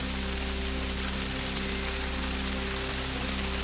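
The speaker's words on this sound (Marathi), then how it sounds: "ठुगाव पिपरी गावामध्ये मुसळधार पावसाची हजेरी" Heavy monsoon rain pours down in Thugaon Pipri village as a dense, unbroken hiss of drops striking surfaces, constant and fairly close, with no voices.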